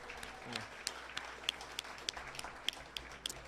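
Scattered applause from the audience at a school district Hall of Fame induction ceremony, honoring a long-serving teacher; faint, distant clapping forms a light wash with a few sharper individual claps standing out.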